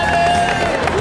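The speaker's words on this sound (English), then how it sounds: "Give her a round of applause." A crowd bursts into applause and cheers, dense clapping filling the short moment at a loud, steady level.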